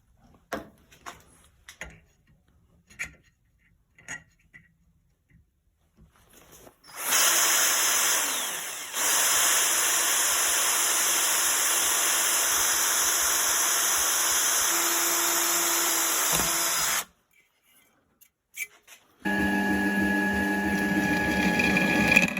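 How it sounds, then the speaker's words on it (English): Drill boring a hole through steel for a homemade CNC router's Y-axis roller beams, opening with light clicks and taps, then a loud, steady high whine that stops briefly and resumes as the bit pecks through, close by with no talking. "Pressing straight down through the steel, I'm peck drilling just to break off the chips so they don't turn into long stringers."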